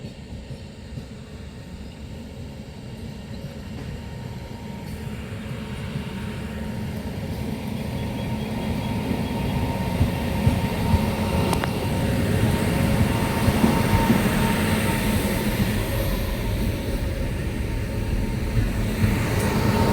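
A train engine running alone, with no coaches, approaching and passing at a rural Tamil Nadu railway line, a broad rumble and rattle that builds steadily louder over about twenty seconds.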